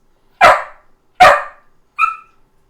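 A dog named Karn barks three times close by, two full loud barks followed by a shorter, higher one, with quiet between them.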